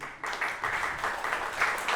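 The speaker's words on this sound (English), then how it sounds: "Round of applause, please." Conference audience at a Polkadot blockchain event gives brief, scattered applause for a presenter, a modest smattering of claps in a room that rises and falls in uneven bursts.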